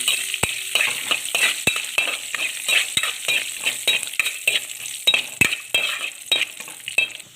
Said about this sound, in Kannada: ಸ್ವಲ್ಪ ಫ್ರೈ ಮಾಡ್ಕೊಳ್ಳೋಣ.